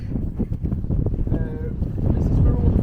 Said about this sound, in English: Ah, it's very windy.